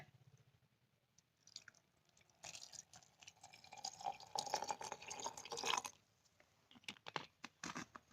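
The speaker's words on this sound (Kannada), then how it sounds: "ಬಾಟಲ್ಗೆ ಹಾಕೊಳ್ಳೋಣ ಈಗ ವಿನಿಗರ್ ಹಾಕೋಣ" Vinegar is poured into a bottle packed with cut fruit peels, a burst of splashing, gurgling liquid lasting a few seconds between quieter handling clicks and taps.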